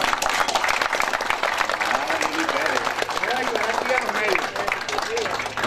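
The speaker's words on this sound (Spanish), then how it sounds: "Un aplauso, vale." Applause from an audience at a public event about a bus terminal construction project, brisk clapping with a voice speaking prominently over it.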